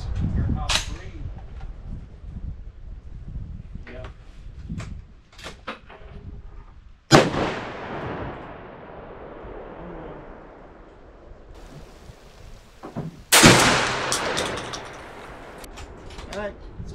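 A 20 gauge shotgun loaded with Federal TSS number 9 shells fires outdoors, with a sharp loud blast near the middle followed by a long decaying echo, a second heavy bang later, and people talking around the shots.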